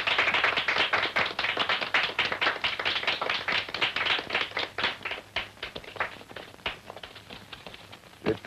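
An audience applauds the winner of a karate match in a Bruce Lee film, a dense, steady crowd clapping that fills the clip, loud at first and thinning slightly toward the end.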